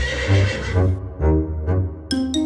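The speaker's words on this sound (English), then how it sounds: "And then she heard sounds of a horse." A horse neighs loudly nearby, a long shrill whinny with shaky pitch, followed by a couple of shorter snorting calls.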